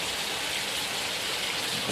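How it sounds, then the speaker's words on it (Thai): Steady rain falls in an even, broad hiss with no break, close and fairly loud, with no voices. "ตอนนี้ฝนตก"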